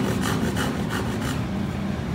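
Hand saw cutting through wood, a close rhythmic rasping with about five strokes in quick succession, then a smoother continuous rub.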